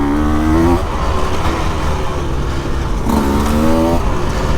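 A 2024 KTM 150 EXC two-stroke dirt bike engine buzzes steadily up close, with its pitch climbing in two distinct revving surges over a constant running drone.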